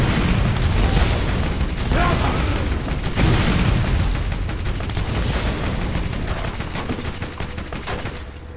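Dense, continuous gunfire and booming blasts from Borderlands GOTY Enhanced co-op combat against skags, loud and relentless throughout with rapid shots layered over explosions and no clear talk.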